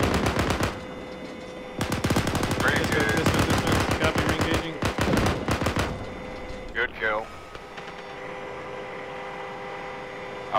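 A .50 caliber machine gun fires in a video game: long rapid bursts at close range, a short gap, then another burst, followed by quieter ambient hum.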